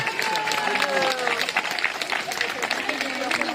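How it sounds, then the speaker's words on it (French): Spectators applaud children after a falconry demonstration at a castle in Belgium, moderate clapping mixed with voices and chatter from the outdoor crowd. "On peut applaudir très fort les enfants, merci les enfants."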